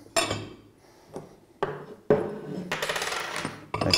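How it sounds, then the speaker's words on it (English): A metal secondary dome is set back onto a Flotronic one-nut diaphragm pump, giving several sharp metallic clanks and knocks, close and fairly loud, with a denser rattling scrape near the end. "Replace your secondary dome."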